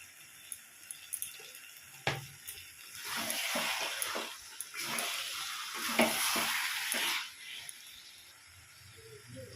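Mutton with turmeric powder stirred and sautéed in a pan, a steady sizzling hiss with repeated scraping stir strokes and occasional clatters, close and moderately loud, no talk.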